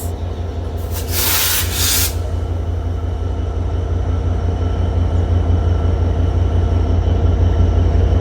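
The Rupashi Bangla Express pulls out from platform 1 at Kashiani Junction bound for Benapole, a loud, constant low rumble and rolling clatter of the train, with a brief hissing burst early on.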